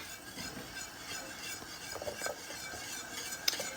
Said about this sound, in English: I'm just going to keep stirring. By the way, I have switched over to a whisk now.